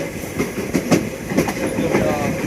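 London Underground Piccadilly line train running above ground while crossing the North Circular Road, with rhythmic clickety-clack wheel beats over rail joints and a steady rolling rumble, heard close from inside the carriage.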